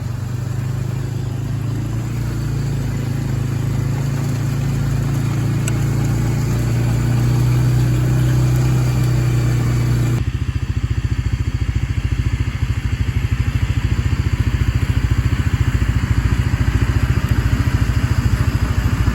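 A heavy tractor pulling a loaded manure spreader runs steadily with a constant low engine drone and mechanical clatter, the tone shifting partway through as the load changes.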